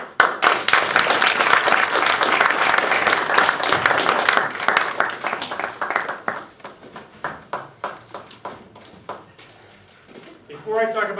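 An audience at a club meeting claps warmly, densely at first, then thins into scattered individual claps that trail away before a voice begins speaking.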